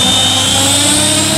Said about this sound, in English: he's flying the 700X with a Castle 128G and a Scorpion motor